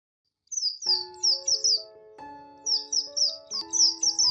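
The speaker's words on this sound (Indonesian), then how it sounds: "Burung-burung saling berkicauan di pucuk pohon rambutan." Birds chirping in the treetops of a rambutan tree on a bright day, repeated quick bright tweets in bursts, close and clear, over a sustained tonal musical background.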